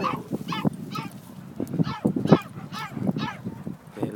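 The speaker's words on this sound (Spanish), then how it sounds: "está el perrito adentro llorando" A dog shut indoors cries and whines repeatedly, a series of high, wavering yelps and whimpers at moderate distance, some sharper and louder than others.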